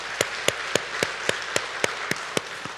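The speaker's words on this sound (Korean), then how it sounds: "하나님께 영광의 박수 드립니다" A church congregation claps in a steady rhythm of about ten sharp, evenly spaced claps, clear and fairly close, with no talking.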